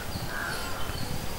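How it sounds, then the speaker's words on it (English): Crows caw near sparrow nesting sites in an urban setting, harsh repeated calls standing out over a steady noisy background with no talking. "Crows provide a major threat to the sparrow chicks."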